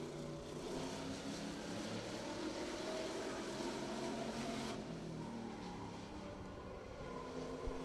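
Greg Harris's eight-cylinder race car on the first of two qualifying laps, a loud, steady engine roar that holds throughout and eases slightly toward the end.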